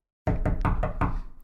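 Knocking on a door comes in five quick, even raps, close and heavy with a deep resonant thud, following a moment of silence.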